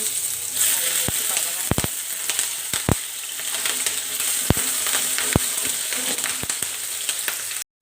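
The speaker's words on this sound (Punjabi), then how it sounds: "ਹਰੀ ਮਿਰਚ ਲਸਣ ਨੂੰ ਆਪਾਂ ਤੜਕ ਲਿਆ ਹੈ" Garlic and green chillies sizzle in hot oil with cumin for paneer bhurji, a steady loud frying hiss throughout with a few sharp spatter pops and spoon clicks, no talking.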